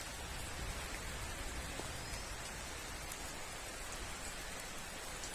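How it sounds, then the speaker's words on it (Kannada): First rain of the year begins falling in an evergreen area with mango and jackfruit trees, a faint, even patter of raindrops hissing steadily on surfaces nearby, with no voices. "ಈ ಪರಿಸರದಲ್ಲಿ ಈಗ ತಾನೇ ಮಳೆ ಅನ್ನುವಂಥದ್ದು ಪ್ರಾರಂಭ ಆಗ್ತಾ ಇದೆ"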